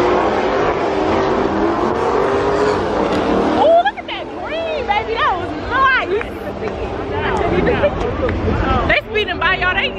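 Cars speeding by at a car meet: loud engine roars and tire noise rise and fall as vehicles pass close, with a crowd talking and calling out throughout.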